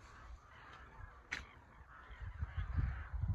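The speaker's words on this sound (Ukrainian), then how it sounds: "Що творять ворони? Ужас, як вони кружляють і оруть" Crows caw in the distance, one sharp call standing out, with wind or rustling noise swelling toward the end.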